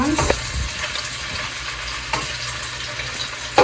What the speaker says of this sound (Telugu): అల్లం పేస్ట్ వేసుకొని దీన్ని పచ్చి వాసన పోయేంత వరకు మా ఎండుకోవాలి